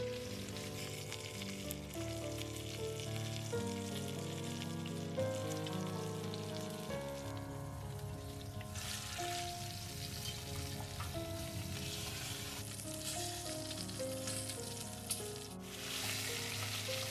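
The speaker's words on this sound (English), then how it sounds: "Now they're browned all over in a good dollop of fat." Pigeons browning in a generous dollop of fat in a pan give a dense, continuous sizzle and crackle, fairly close and steady throughout with no talk.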